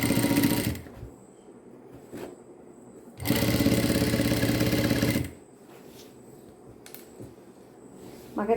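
Sewing machine stitching a double-folded hem on a draped skirt, with two loud, steady bursts of running stitches separated by quiet pauses and a little handling noise.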